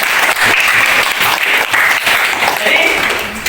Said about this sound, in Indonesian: beri tepuk tangan untuk Lida